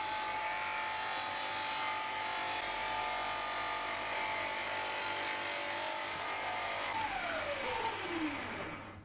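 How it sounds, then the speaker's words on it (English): A disc sander runs steadily as a piece of beech is pressed hard against it, a loud continuous whirring grind that holds for several seconds before the pitch drops as the motor begins to wind down. "I started the stopwatch and sanded the piece of beech as vigorously as I could against the disc sander"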